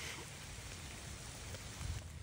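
Steady rain falls outdoors beside a homestead pond, a dense, even hiss of drops that stays constant throughout, with no voices.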